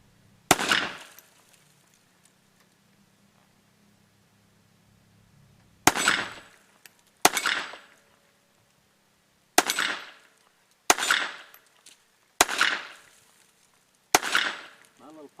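Seven sharp gunshots from a Sig Sauer P365 .380 pistol after repair: one isolated shot, then six loud close reports in fairly even succession, each with a brief decaying tail.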